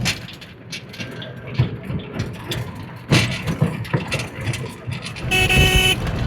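A tuk-tuk rides through road traffic near the station in Murshidabad, with engines rumbling and scattered vehicle horns tooting, a louder horn blast near the end.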